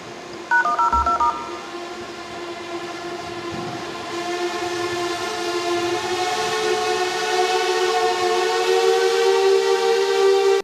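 A Koleje Dolnośląskie passenger train on the Kłodzko Główne–Polanica-Zdrój line, sounding a short multi-tone horn blast and then a long, steady sustained horn over ongoing rail rumble that grows gradually louder.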